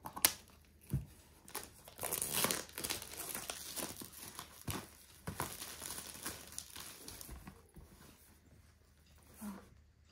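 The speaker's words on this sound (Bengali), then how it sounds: "দেখো এবারে সিল কাটো।" Plastic packaging on a DJI Osmo Pocket 3 creator combo parcel is cut and torn open, with irregular crinkling and ripping bursts close by, and quiet gaps between them.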